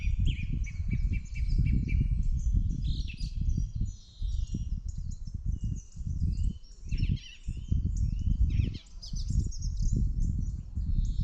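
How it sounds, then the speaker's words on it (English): A song thrush sings varied, repeated phrases over steady low rumbling wind and rustle outdoors, moderately distant, with no voices. "Yeah, that is a song thrush."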